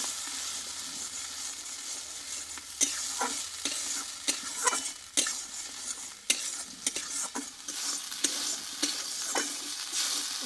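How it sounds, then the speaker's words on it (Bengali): Raw tomato and ginger masala cooked down in a pan for an okra dish, with a soft continuous sizzle broken by sharp spoon scrapes and stirring knocks that come in irregular bursts, fairly quiet overall. "যেহেতু কাঁচা টমেটো আদা আছে এটা একটু ভালোভাবে আগে কষিয়ে নেবো"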